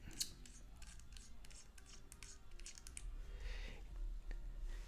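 Coil Master coil jig being unscrewed from its common body, a run of small metallic clicks and scraping thread rubs, close and fairly soft, with steady low hum beneath.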